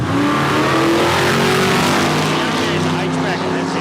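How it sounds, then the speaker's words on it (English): A small-tyre unblown bracket drag racing car makes a pass down the strip at Palmyra Raceway in Australia, a loud, sustained engine roar rising in pitch, with a commentator talking over it. "So nice clean pass there for Tylan."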